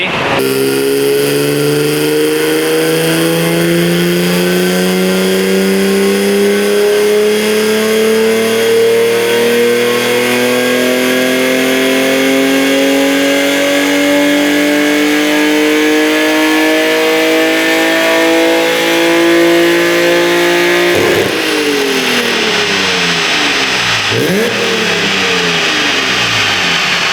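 A BMW E36 M3 engine on a dyno revs in one long, loud sweep that climbs steadily in pitch for about twenty seconds, then drops off and blips again as the run ends.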